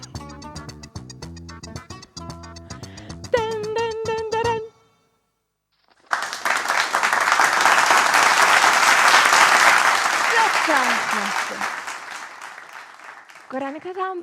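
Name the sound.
studio audience applause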